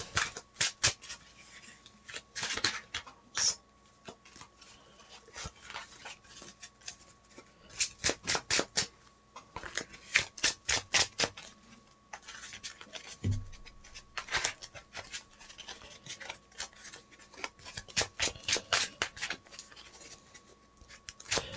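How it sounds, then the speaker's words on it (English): A deck of trading cards is shuffled in quick bursts of riffling and snapping, close and fairly quiet, with short pauses between rounds and no talk over it. "I just gotta shuffle this up a little bit."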